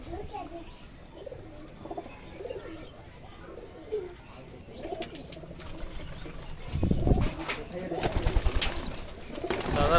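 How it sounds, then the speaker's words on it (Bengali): Malbai and Kalanga pigeons coo in low, repeated phrases at close range, joined near the end by louder rustling and bursts of activity, with faint voices in the background. "কালাঙ্গা পায়রা রয়েছে"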